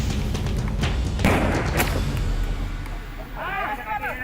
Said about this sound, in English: The team use fireworks to flush the elephants out